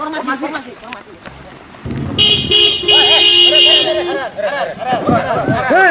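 A car horn blasts in one long, steady honk of about two seconds on a street, close and loud, while people talk and shout over it before and after.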